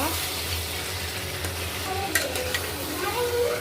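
Cut, cleaned crab pieces are stirred in a sizzling pan, a continuous close fry hiss broken by several sharp scraping clinks of the spoon toward the end, with no voices.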